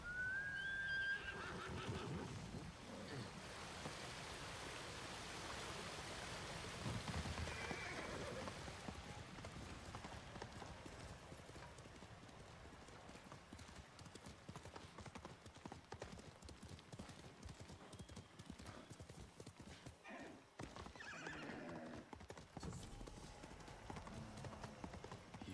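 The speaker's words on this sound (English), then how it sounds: "I'm getting my horse, man." A horse in a video game clip-clops along with steady hoofbeats and lets out a neigh early on, over a soft ambient wash that sounds like rain, with no speech.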